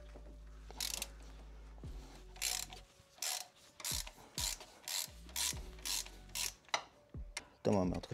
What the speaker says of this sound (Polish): Nasadkę E14 i popuszczamy sobie te śrubki.